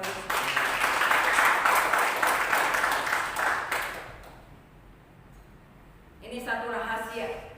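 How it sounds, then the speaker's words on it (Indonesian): A church congregation claps together during a sermon, a dense burst lasting a few seconds that fades to near quiet before a preacher's voice resumes. "Tepuk tangan buat Tuhan Yesus."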